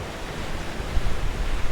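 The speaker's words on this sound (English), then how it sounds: "it's got some nice wind going" Steady wind rushes over Atlantic Ocean waves during an ocean crossing, a broad roaring wash with gusty swells buffeting the microphone, and no voices.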